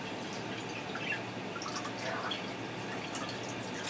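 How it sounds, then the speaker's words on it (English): Water from a jar is poured into a Ninja Foodi pot, giving a steady watery rush with scattered splashes and drips, moderately close and even in level from start to finish, with no talking. "I'm going to dump in roughly about half of that jar of water"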